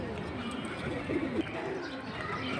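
Pigeons coo softly at a pigeon market, a low murmuring coo rising briefly in the middle amid steady background noise and faint nearby voices.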